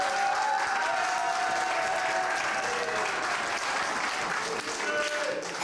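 A theatre audience at a Dutch cabaret performance applauds the pianist, a thick, continuous wash of clapping that holds steady for several seconds, with a faint sustained tone running underneath.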